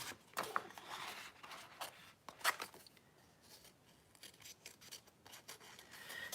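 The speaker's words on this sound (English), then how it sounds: "I'm going to fussy cut this sticker out" Big scissors snip through a solid sticker sheet for a floral traveler's notebook, a few quiet, sharp close-up cuts followed by soft rasping and rubbing of the paper.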